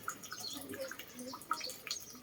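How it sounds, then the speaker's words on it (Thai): Faint water from a tap trickles and drips while bananas are rinsed for a Thai dessert, soft irregular splashes and drops close by. "็เปิดน้ำน้ำไหล ล้างให้สะอาดนะครับ"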